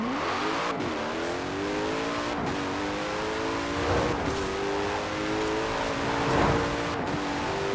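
A Nissan Pulsar accelerates hard in the Forza Horizon 4 video game, its engine note rising steadily through several quick gear changes, loud and continuous with no voices.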